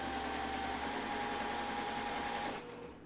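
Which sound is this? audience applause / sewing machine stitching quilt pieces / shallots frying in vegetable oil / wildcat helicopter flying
sewing machine stitching quilt pieces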